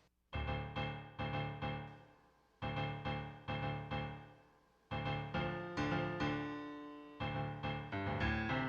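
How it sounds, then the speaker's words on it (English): Plain synthesized piano playing a simple repeated chord pattern, each note decaying cleanly, even rhythm, quiet and dry with no voices. "I'm going to share how I took this simple piano MIDI."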